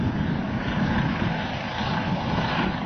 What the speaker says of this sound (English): Helicopters operated by both the gendarmerie and larger military Puma aircraft arrived.